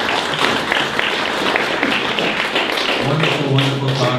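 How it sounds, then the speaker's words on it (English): A trade show marketing talk audience gives a round of applause at the close of a talk, dense clapping of moderate loudness that holds steady throughout, with a few low thuds and a faint voice starting near the end. "That's your round of applause."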